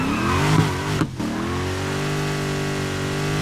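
A modified SRT Challenger Demon with a V8 engine revs loudly up close, surging briefly, dipping, then settling into a steady, deep rumbling hold.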